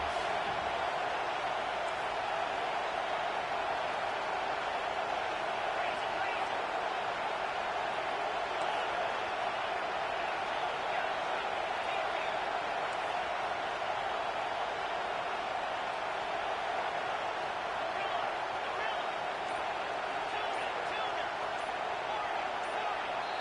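Roaring football stadium crowd in an NCAA college football video game, loud enough to force a false start: a dense, unbroken wall of noise that stays level and constant throughout.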